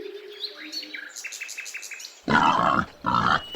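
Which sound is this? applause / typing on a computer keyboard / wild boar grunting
wild boar grunting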